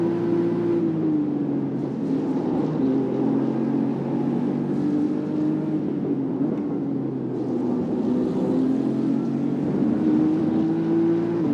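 A BMW M4 race car engine drones on the Brands Hatch circuit, a steady, loud buzzing tone heard from onboard that rises and dips slightly with throttle over about twelve seconds, with no talk.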